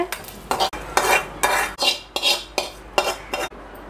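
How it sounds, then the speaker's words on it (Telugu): Cumin and coriander seeds are dry-roasted in a pan for a mango pickle, with dried red chillies already roasted in it. A spoon stirs and scrapes in quick repeated strokes and the seeds rattle with a light sizzle, close up and without talk. "ఇప్పుడు మనం ఇందులోనే జీలకర్ర, ధనియాలు వేయించుకోవాలి."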